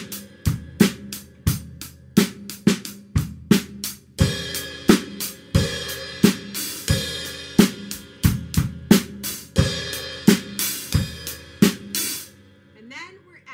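A drum kit plays the guitar-solo phrase of a song, with snare hits and bass drum in a driving rhythm and crash cymbals washing over the later bars, close and loud, ending as the crashes ring out.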